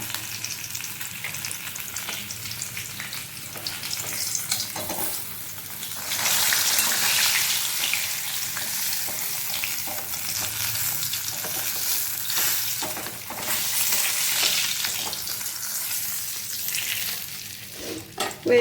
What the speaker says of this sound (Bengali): একইভাবে বাকি মাছগুলো আমি ভেজে নেব।